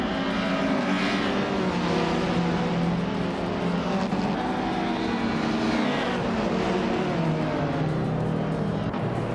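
Race cars roar through a racing video game: a dense, steady engine drone with shifting pitches as several cars run close together, loud and unbroken throughout.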